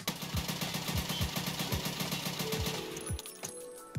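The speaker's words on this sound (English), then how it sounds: "First round, as always, no recoil control with the 16-inch barrel SR-25." Rapid repeated shots from an SR-25 rifle with a 16-inch barrel in Escape from Tarkov, about a dozen sharp, evenly spaced reports in a steady rhythm, loud and close, with no talk over them.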